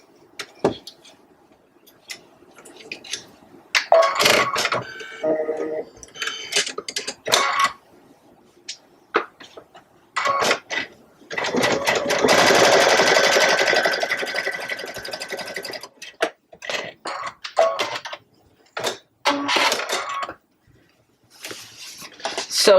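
Sewing machine being rethreaded, then stitching a large trivet project in short bursts of rapid mechanical clatter, with clicks and handling ticks between runs, close and fairly quiet.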